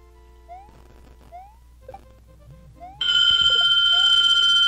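A phone ringtone cuts in loud and sustained over soft game sound effects from a Super Mario World ROM hack, holding a steady electronic tone until the end.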